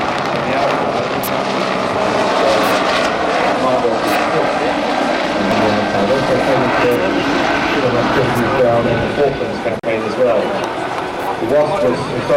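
A Westland Wasp HAS1 naval helicopter flies at an air show, its rotor and engine noise a steady, moderately distant drone heard under continuous commentary.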